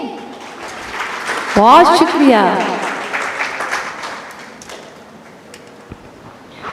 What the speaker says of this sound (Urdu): تالیاں ہی دے دیں